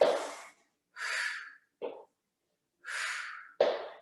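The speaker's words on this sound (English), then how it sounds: "Can you hear my breathing?" Heavy breathing during a mid-day exercise stretch, with several loud, forceful inhales and exhales in an uneven rhythm and short silent pauses between them, close to the microphone.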